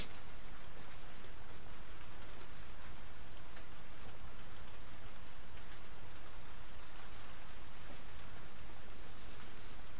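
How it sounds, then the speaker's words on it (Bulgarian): Steady rain in the video game The Last of Us Part 2, a dense continuous hiss of falling drops on surfaces, even and unbroken throughout with no speech over it. "Вали си се стабилно."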